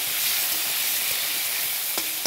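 Potato pieces frying in oil already used to fry fish, a dense, even sizzle with no talk over it, plus a couple of faint scraping knocks near the end.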